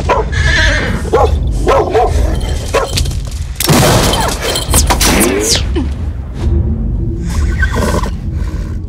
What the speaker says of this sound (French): Les chasseurs s'en prennent soudain à un chien, qui est le chien du jeune Jacou le croquant